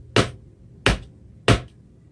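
Three sharp dance footwork steps strike a hard floor at an even pace, each a crisp thud with a quick decay, nothing else between them.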